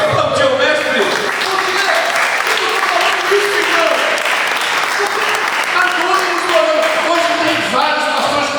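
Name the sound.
audience applauding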